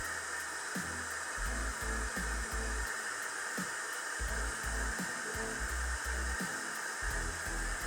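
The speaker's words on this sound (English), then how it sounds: "drying both this section and the section underneath at the same time" A hair dryer fitted with a DevaFuser diffuser attachment runs continuously at close range, a steady loud airy whir broken by soft low thumps as the diffuser moves through curly hair.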